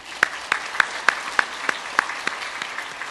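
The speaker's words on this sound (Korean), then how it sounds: "인사하실 때 박수로 환영하며 축복하겠습니다." Congregation at a Korean church Sunday service clapping in unison to welcome newcomers, with about ten sharp, evenly spaced claps that are fairly loud and close, and no speech.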